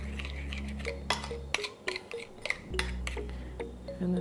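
A spoon clinks and taps against a bowl while stirring a lemon juice marinade for shrimp, a few sharp irregular clinks over a low background hum.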